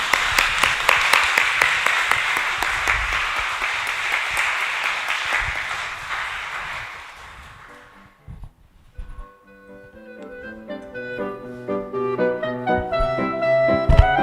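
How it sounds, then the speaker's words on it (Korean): A church congregation claps through roughly the first seven seconds of a young adults' worship service, dense and sustained, then fades out as music with sustained tones takes over. "박수로 먼저 문을 열도록 하겠습니다."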